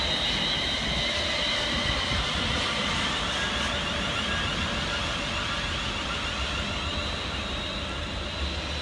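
Two coupled London Northwestern Railway Class 350 electric multiple units arriving on a Crewe to London Euston service, a steady loud rumble with wheel hiss and a faint high squeal throughout, no voices.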